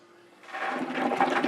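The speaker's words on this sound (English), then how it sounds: "Okay, water's flowing." After a brief quiet start, water begins rushing and gurgling steadily through a homebrewing stand, building into a continuous splashing flow.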